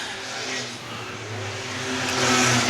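Race cars in a Six Shooters heat at Star Speedway, a short-track oval, engines droning and rising in pitch as a car accelerates nearby, loud and continuous with a faint voice underneath.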